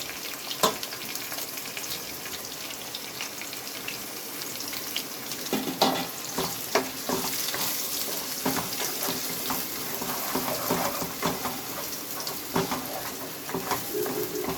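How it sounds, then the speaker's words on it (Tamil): A ground onion, tomato, ginger and coriander paste fries in a pan for Bangalore-style chicken gravy, giving a steady loud sizzle with a few scraping stirs and a faint splash of water, no talking. "அந்த விழுது ஃபுல்லாக நம்ம போட்டுக்கிறோம்"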